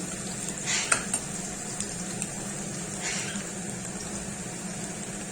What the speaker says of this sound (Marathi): 8-10 पाकळ्या लसूण चिरून घातलेल्या आहे, त्या पण चांगल्या लालसर होऊ द्यायचा